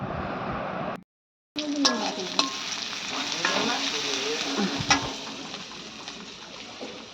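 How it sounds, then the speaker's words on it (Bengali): Leafy greens fry with onion in a pan, a loud steady sizzle with stirring clatter and scraping, briefly cut off near the start before resuming close and continuous. "নোটে শাকটা পেঁয়াজ দিয়ে ভাজা হচ্ছে"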